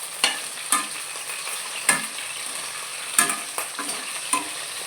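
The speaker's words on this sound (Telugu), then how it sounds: "వంకాయల్ని ఆయిల్లో వేసుకొని ఫ్రై చేసుకోవాలి" Slit eggplants fry in hot oil with a steady close sizzle, punctuated by several sharp clinks and scrapes of a utensil stirring the pan, with no talking.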